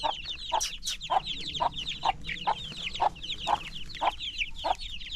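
A hen clucks steadily over her brood of about eight chicks on a small farm, sounding in a regular series of close, distinct clucks about every half second, with faint high peeping from the chicks layered above.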